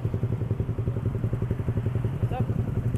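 A Honda Sonic 150R motorcycle engine throbs in a steady, rapid pulsing rhythm, loud and close, while a rider talks over it.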